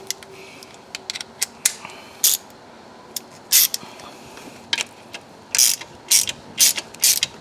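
A ratchet snugs up transmission pan bolts on a 1998 Plymouth Grand Voyager, quick clicking bursts close by, some short and some longer, separated by brief pauses of quiet.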